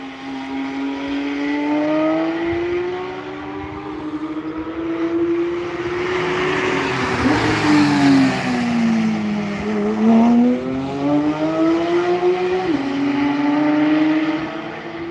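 Race cars roar past on the Nürburgring, their engines rising and falling in pitch as they sweep by close and loud one after another, with no talking over the steady engine noise.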